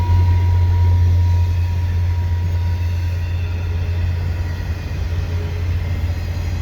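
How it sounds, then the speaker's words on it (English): A Via Rail LRC passenger train rolls into Dorval station in winter, a steady close rumble of wheels and engine holding loud throughout with a low droning hum and no talk. "And here comes the Via train."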